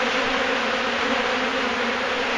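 A swarm of angry honey bees buzzes loudly and continuously during a hive removal in Wellington, Florida, a thick, close, unbroken drone of countless wings.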